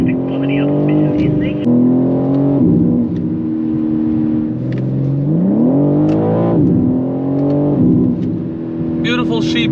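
A 2023 BMW M3 G80 accelerates hard from inside the cabin, its engine note climbing and settling through gear changes, loud and steady, with a person talking over it.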